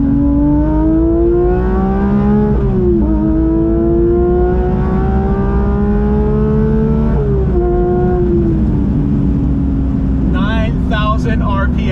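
Porsche GT3 engine revving out toward 9,000 RPM from inside the cabin, a loud rising wail that climbs through two gearshifts and then eases off, with a voice exclaiming near the end.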